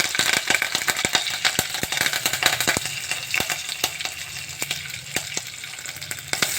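Green chilies, chana dal and curry leaves sizzle loudly in hot oil, a dense continuous frying hiss with frequent sharp pops and crackles throughout, no talking.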